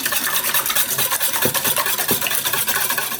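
A spoon stirs quiche filling of spinach, onion and mushroom in a bowl after salt and pepper go in, a continuous close scraping and sloshing with quick repeated strokes, no speech.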